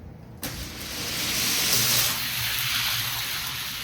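Hot Wheels toy cars, including a Mitsubishi Eclipse and a Mustang, race down a track after a sharp start click, giving a rising, rushing whir that peaks briefly and then settles into a steady rolling hiss.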